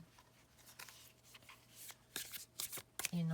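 Soft, repeated tarot card shuffling with intermittent papery riffles and taps, fairly close and quiet, ending in a brief sharper burst.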